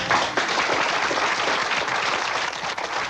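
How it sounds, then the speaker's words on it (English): Crowd applause at an Emeryville city council meeting in 1983 as a new mayor is welcomed, a dense, steady wash of many hands clapping throughout without a break. "The new mayor was greeted with applause."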